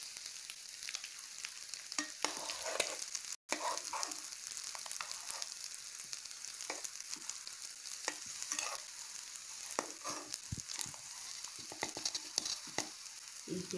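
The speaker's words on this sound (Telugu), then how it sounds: "చూడండి బాగా డీప్ ఫ్రై అయిపోయింది" A rice dish, kodigudu merumu, deep frying in a pan with ghee, giving a steady, close sizzling crackle with scattered sharper pops and spatula scrapes throughout and one brief dropout.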